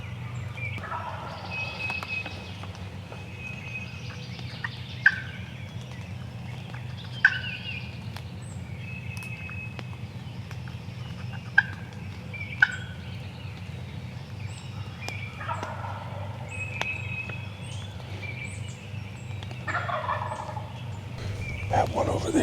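A wild turkey gobbler on public land gobbles repeatedly from a distance, with the calls spaced several seconds apart over a low outdoor hum. Sharp bird chirps are also audible.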